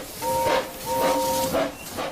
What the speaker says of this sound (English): The engines' fires had been lit, and they were making steam ready for their journey.